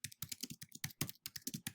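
Rapid, close computer keyboard typing, a brisk run of distinct key clicks with brief gaps between bursts and no speech over it.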